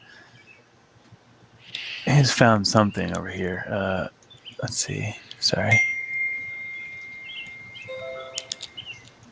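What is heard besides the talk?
birds chirping in the game's background audio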